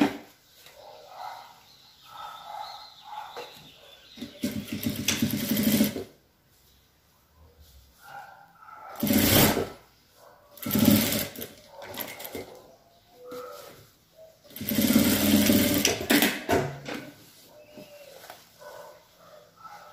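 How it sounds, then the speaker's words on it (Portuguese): A sewing machine stitches a trouser hem in several short, close runs, each a few seconds long. Quieter pauses with light handling noises separate the runs. "é só a gente dobrar como tava antigamente aqui na barra e passar a nossa costura aqui,"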